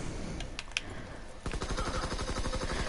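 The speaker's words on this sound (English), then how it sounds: "Okay, I hear gunfire." Rapid bursts of gunfire crackle in quick succession in the video game Call of Duty WW2, with a few isolated shots first and then a fast, sustained volley.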